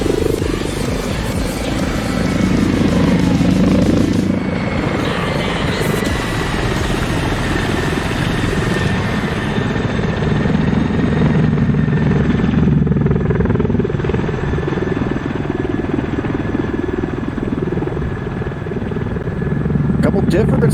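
A Russian Mi-8 helicopter flies a solo aerobatic display demo at an airshow in Sochi, its heavy rotor thump and turbine roar loud and continuous, swelling and shifting as it maneuvers, with a commentator talking over it.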